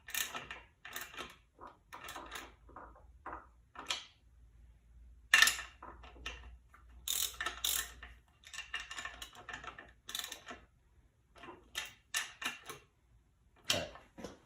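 Small hand tool tightening a part down on a 1958 Johnson 18 hp outboard motor, heard as a string of quick, close mechanical clicks and ticks in irregular bursts with short pauses between them.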